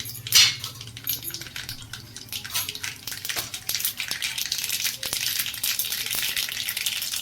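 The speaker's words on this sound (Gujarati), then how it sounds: "આ બાજુ તેલ ગરમ થઈ ગયું છે. એમાં રાઈ નાખીશું, જીરું," Mustard seeds, cumin and a pinch of hing crackle and sizzle in hot oil for ragda, a dense close hiss with sharp popping ticks that builds steadily.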